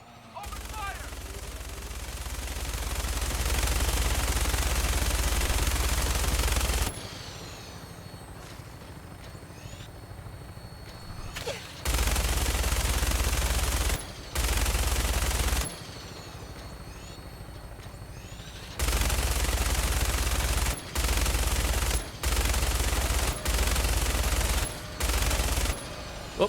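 Machine gun fire in the Fallout mod America Rising 2: long stretches of heavy continuous automatic fire alternate with quieter gaps, then short repeated bursts, loud and close, with a helicopter-like rumble and occasional speech.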